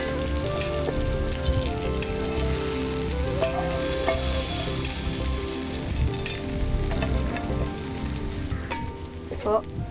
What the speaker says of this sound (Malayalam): ഇപ്പൊ നമ്മൾ ഇളക്കിക്കൊണ്ടിരിക്കുകയാണ്